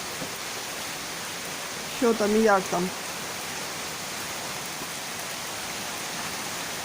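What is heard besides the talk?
rain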